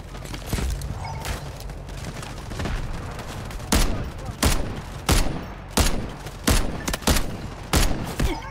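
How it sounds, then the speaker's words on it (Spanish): Gunfire in the video game Delta Force: loud sharp shots crack in an irregular series, about a dozen bursts, some in quick pairs, over a low background hum. "Freddy Wong, de dos tiros lo bajá."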